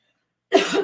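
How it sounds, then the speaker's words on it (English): A single short cough bursts out after half a second of silence, close and fairly loud. "I have to cough."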